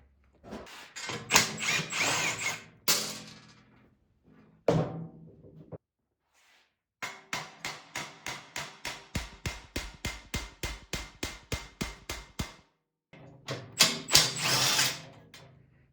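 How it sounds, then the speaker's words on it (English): Repair work on a Toro Power Max snow blower auger: bursts of power drilling, then a long run of rapid, evenly spaced hammer blows on a punch, then more drilling, all close and without speech. "a lot of drilling and whacking with the hammer and a punch"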